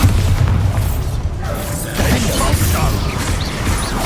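A Bombarda spell explodes in Hogwarts Legacy during a duel, a heavy booming burst with crashing debris and whooshing magic, loud and close, with brief voices mixed in.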